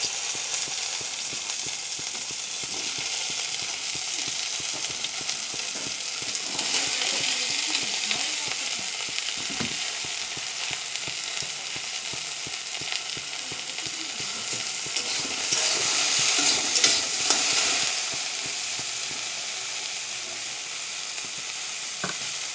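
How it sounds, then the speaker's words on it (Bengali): Okra (bhindi) frying in a pan with a little oil and salt, giving a steady, close hiss of sizzling that runs unbroken throughout, with faint scraping and no talk. "ভিন্ডি ভাজা।"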